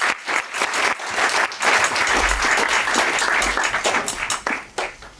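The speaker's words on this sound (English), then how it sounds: "massive round of applause for Clive De Carle" Sustained audience applause at a conference honoring Clive De Carle, dense and loud clapping filling the room for about five seconds before tapering off near the end.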